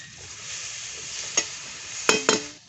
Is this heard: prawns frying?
yes